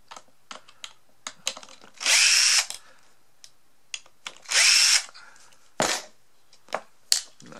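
A power drill backs screws out of a Staples model 34462 pencil sharpener. Two loud, sustained whirring bursts stand out from frequent sharp clicks and handling knocks, and a few shorter drill blips follow near the end.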